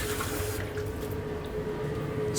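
Running water at a kitchen sink as dishes and a pan are washed after cooking chicken, a steady close rush with a hard clattering edge at the start, then settling into an even flow.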